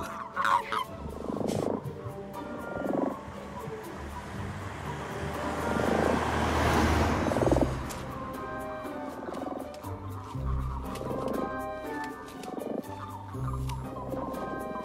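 Toads croak in a pond with repeated short, buzzy calls, some close and loud, others fainter. A noisy swell in the middle partly covers them.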